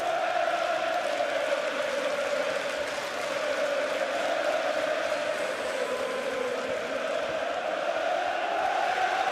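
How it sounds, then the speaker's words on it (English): A packed boxing arena crowd at a Carl Frampton versus Josh Warrington fight roars and cheers in a steady, loud, sustained wash of voices with a rising and falling chant-like swell, no single speaker standing out. "It's like a 90s crowd, isn't it, now?"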